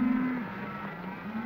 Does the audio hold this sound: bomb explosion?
no